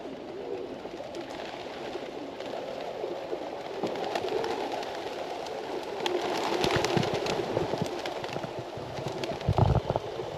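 Pigeons in a parking area in Faro, Portugal, give low cooing amid a steady outdoor din, with a louder burst of wing flapping toward the end; nobody speaks.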